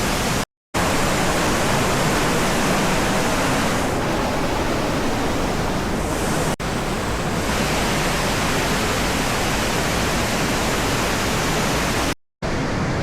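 Deungseon waterfall and its valley stream at Samaksan pour down in heavy rain, a dense, steady roar of rushing water that fills the clip at close range, unbroken apart from two brief cuts to silence.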